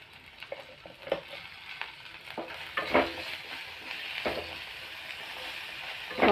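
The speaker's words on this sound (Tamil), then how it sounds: "கோவக்காய் 2 நிமிஷம் அப்படியே நல்லா வதங்கட்டும்." Chopped ivy gourd with salt sizzles and fries in a pan, a steady crackling hiss broken by several sharp stirring scrapes and clinks, close and moderately loud with no talking.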